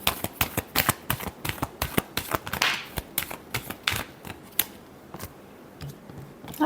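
Tarot cards shuffled by hand, a quick run of crisp riffling slaps in an uneven rhythm, close and clear, thinning out toward the end with no speech.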